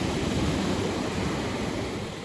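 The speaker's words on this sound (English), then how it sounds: "Listen to the waves rolling on the shore." Ocean waves wash onto the shore at Wilsons Promontory, a dense, steady roar of surf with some wind noise, fading slightly toward the end.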